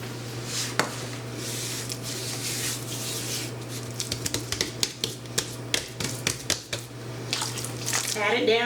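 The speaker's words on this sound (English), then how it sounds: "And then we're going to rub that around and pat it in real good" Hands rubbing and patting seasoning rub into a brisket, a run of soft close slaps and moist rubbing strokes that quicken toward the end over a steady low hum.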